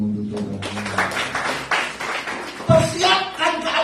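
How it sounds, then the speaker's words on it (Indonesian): A church congregation at a Sunday worship service claps in uneven bursts while voices carry over the sound, with a heavier thump of clapping near the end. "Tepuk tangan dulu dong untuk Tuhan."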